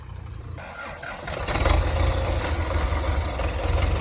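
A tractor engine idles on a farm field before potato planting, a steady low rumble that swells louder after a quieter opening second and then holds a constant, even drone.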